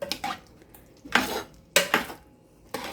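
A metal spoon stirs sautéed mung beans with eggplant in a pan, with four separate bursts of scraping and clinking against the pan, close and clear, separated by short quiet gaps.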